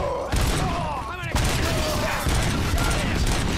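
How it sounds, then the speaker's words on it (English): Gunfire in RoboCop: Rogue City, bursts of loud shooting with clattering mechanical impacts and a brief swooping whine, dense and close, with game voices mixed in. "Endlich kann ich wieder ein bisschen ballern."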